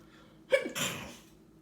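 A single sharp sneeze, close and fairly loud, with a quick intake of breath just before it and a fading breathy tail.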